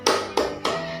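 Preschool children clap their hands together in time during a devotional song about the Prophet Muhammad at a PAUD kindergarten in Kebumen. Three sharp, evenly spaced group claps are heard, each ringing briefly.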